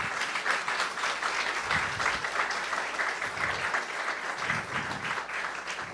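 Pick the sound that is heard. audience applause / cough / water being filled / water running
audience applause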